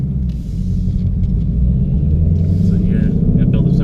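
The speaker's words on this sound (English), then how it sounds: "So here it builds up RPMs." A 2018 Mustang GT fitted with a Roush X-pipe builds revs, a loud, deep, steady engine rumble heard from inside the car, with a voice talking faintly over it.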